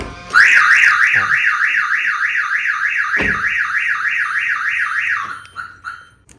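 A loud car alarm on a keyless-entry car, triggered by a forced door opening, wails in a rapid rising-and-falling siren pattern for about five seconds, then cuts off, leaving a few faint clicks and thumps.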